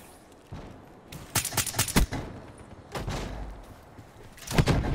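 Gunshots in Call of Duty: Black Ops III during a Drakon sniper challenge: a few sharp reports in a quick cluster, then more isolated shots, loud and close against quiet game ambience.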